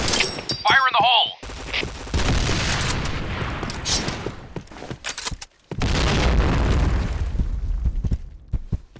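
Grenade blasts in the shooter game Point Blank, heavy booming explosions with gunfire rumbling across most of the stretch, a short gap midway, then another loud burst; a game voice calls out at the start.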